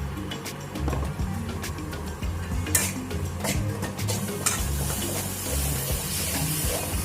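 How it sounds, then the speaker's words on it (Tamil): Raw mango pieces sautéed with salt in a pan, a steady close scrape and stir of a spatula against metal with scattered clinks and a low background hum, no talking. "இது கூட இந்த டிஷ்ஷுக்கு தேவையான அளவு உப்பு போட்டு நம்ம வதக்கிக்கலாம்"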